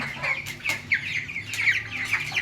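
Tiger breed chickens cluck and squawk repeatedly in short, busy bursts close by, with a low farmyard murmur underneath and no talking.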